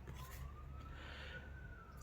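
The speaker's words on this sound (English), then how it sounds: "Sirens. Do you hear that?" An emergency siren wails faintly in the distance outdoors, its tone sliding steadily upward over a dull background rumble.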